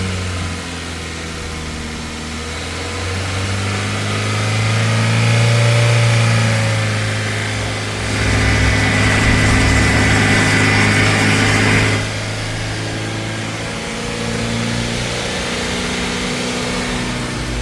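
A worn-out Chevrolet Spark's engine idles and revs in several swells, the pitch climbing and settling back to a steady idle, loud and close with no talk over it.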